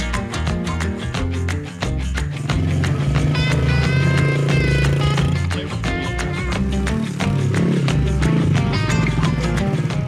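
A pit bike rides on a track built with shipping containers, its engine revving loudly and continuously close by, rising and falling in pitch as the rider works the throttle.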